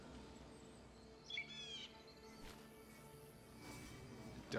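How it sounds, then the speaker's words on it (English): A bird in Baldur's Gate 3 gives a brief chirping trill, faint and somewhat distant over a quiet ambient background, followed by a few softer tweets. "Can I talk to this bird?"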